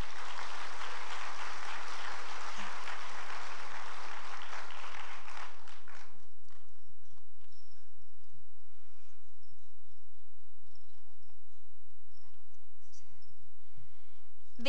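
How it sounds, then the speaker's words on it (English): An audience applauds graduating seniors at a senior awards ceremony, the dense clapping lasting about six seconds before it tapers off into a quiet hall with faint rustling. "Let's give them one more round of applause."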